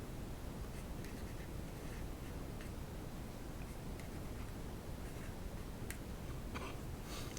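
Pen or marker strokes on paper while a diagram of charged plates is sketched by hand for an electrodynamics problem, soft scratchy writing ticks spread through a steady low background hum, with no talking.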